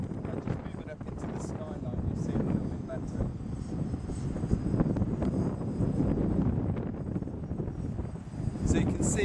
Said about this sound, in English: The helicopter's now holding position.